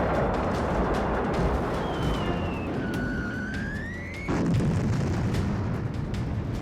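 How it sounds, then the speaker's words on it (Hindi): A heavy explosion from Russian bombardment of Zaporizhzhia booms out suddenly after a rising, siren-like whine, over a constant rumbling roar of distant blasts. "काले धुएं की ऊंची दीवारें, गूंजते धमाके और हर धमाके के साथ कांपते घर"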